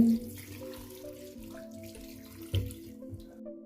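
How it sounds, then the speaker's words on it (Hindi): Water pours steadily into a metal pressure cooker holding lentils and chicken, a continuous splashing gush with a faint low hum beneath. "दो गिलास पानी ऐड कर देंगे।"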